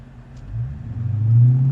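Dodge Challenger SRT 392 with a six-speed manual pulls away in first gear, a deep V8 rumble swelling steadily from a low idle into a louder, sustained near-field drone with no voices.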